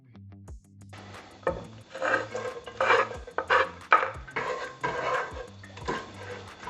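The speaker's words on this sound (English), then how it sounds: "So all we're doing now is just browning off the brown onion and the garlic." Brown onion and garlic browning in a pan, stirred with a series of scraping, clattering strokes close up over a faint sizzle, no voices.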